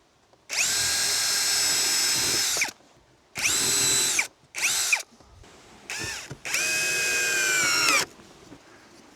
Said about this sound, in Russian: Вот здесь рассверлил поглубже